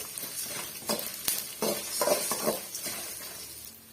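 Dried red chillies roast in a pan over a medium flame with a soft sizzle, while repeated scraping and stirring strokes against the pan come in irregular bursts, with no voices.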